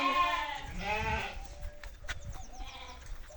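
Lambs bleat in a few wavering calls, moderately near, over an outdoor breeze with light rustling, in a high village area of Çan, Çanakkale.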